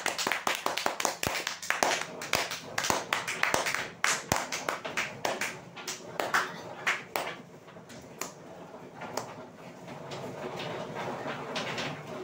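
Scattered claps from a crowd at a prize draw event, a string of sharp, uneven hand claps that thin out and give way to a low, steady background murmur.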